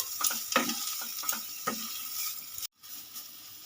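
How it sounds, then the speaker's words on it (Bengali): Bean mash with chopped raw onion and shrimp is stirred in a pan on a gas flame, giving a few soft scrapes over a faint sizzle, quiet and close, with a brief dropout near the end. "এবার একটু নেড়ে নেব"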